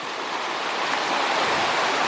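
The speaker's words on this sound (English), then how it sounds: "This is the river." A river in Pisgah National Forest rushes steadily beside a campsite, a dense, even hiss of flowing water heard close and loud with no voices.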